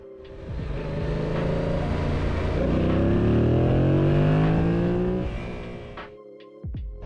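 A motorcycle pulls hard in first gear, its engine climbing in pitch over several seconds into a loud, close roar before easing off, with a couple of sharp knocks near the end and no speech.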